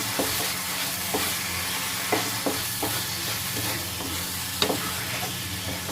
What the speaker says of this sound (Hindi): अब इसे मिक्स करना है, मिक्स करके थोड़ी देर और चलाना है।